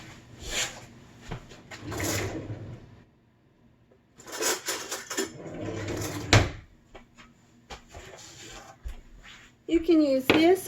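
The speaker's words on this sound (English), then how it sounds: "I'm gonna grab a spoon." Someone grabs a spoon from a kitchen drawer while preparing cheesy chicken chowder, with scattered clattering bursts of the drawer and rattling utensils close by and a voice briefly audible.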